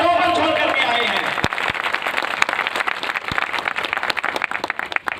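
Audience at a corporate meeting breaking into loud applause, a dense burst of clapping that starts over a fading voice and thins into scattered individual claps over five seconds.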